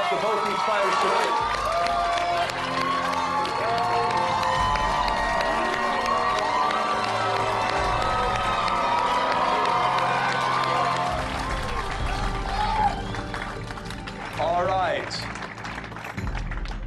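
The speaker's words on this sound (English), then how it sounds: "please give a big round of applause to both these fighters tonight" A boxing crowd applauds and cheers both fighters after a bout, a steady wash of clapping and shouts that swells and fades, with a few whoops near the end and voices over it.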